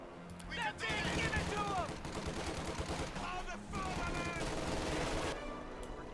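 In Company of Heroes 2, an MG42 machine gun and rifles fire in dense, overlapping bursts and cracks that continue without a break through the battle.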